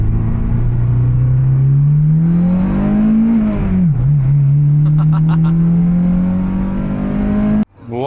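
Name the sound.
Acura RSX engine revving with new header and exhaust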